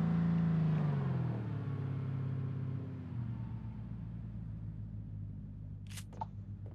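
A battered car in the game Knives Out (荒野行動) drives with a low, steady engine rumble that dips in pitch early on, then continues as a quieter drone with a couple of faint clicks near the end.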